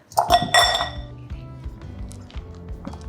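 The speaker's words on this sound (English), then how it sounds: "now we're ready to fold our egg whites into the batter" Egg whites are folded into sponge cake batter in a bowl, with a few bright metallic clinks and knocks of a utensil against the bowl up front, then softer scattered taps and scrapes fading out.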